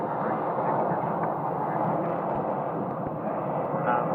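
A heavy airliner roars steadily as it takes off from runway 25 right at Phoenix Sky Harbor, heard from near Terminal 4, a loud continuous broadband engine rumble with no break.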